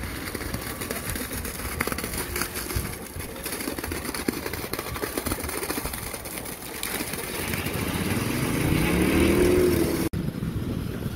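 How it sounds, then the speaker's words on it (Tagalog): A mobile concrete pump drones loudly while pouring concrete for a suspended hollow-core slab at a construction site, with a steady engine rumble and rattle that swells toward the end. "Yan yung actual natin na concrete pouring using mobile pump."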